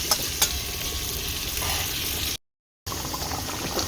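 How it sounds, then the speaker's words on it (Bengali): Pointed gourd (potol) is frying crisp in hot oil, giving a loud, dense, continuous sizzle up close with a few spatula scrapes and a brief gap partway through. "পটলটা খুব ভালো করে মশমশে করে ভাজছি দেখো লাল লাল হয়ে এসছে"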